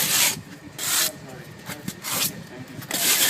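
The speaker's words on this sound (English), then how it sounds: "now with the polystyrene float" Polystyrene float rubbing render on the edges of a Thermatech polystyrene block letterbox, close repeated scraping strokes in an uneven rhythm of about five passes, with short pauses between them.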